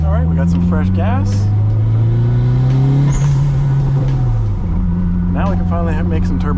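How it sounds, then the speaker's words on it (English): A 400-horsepower Toyota MR2 accelerates hard with audible turbo noise, its engine tone climbing steadily through a gear, dropping at a shift, then climbing again, loud and close. "Now we can finally make some turbo noises, which is cool."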